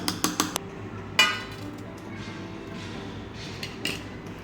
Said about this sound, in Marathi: आता हे मिश्रण ह्या ताटामध्ये काढून घेऊया